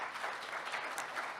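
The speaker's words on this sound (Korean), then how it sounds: "큰 박수 부탁드리겠습니다." Audience clapping at a district public policy forum, a soft, distant, even patter of many hands that holds steady for the whole short stretch.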